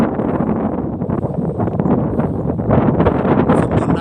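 Strong gusting wind buffets the microphone during a kite flying test in rain, a dense continuous roar that surges and thickens toward the end, with no voices heard.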